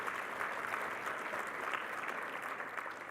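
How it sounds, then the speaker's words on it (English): A conference audience at a civic talk claps together in a dense, steady wash of applause that holds at an even level throughout, moderately distant and free of speech. "that's worth an applause"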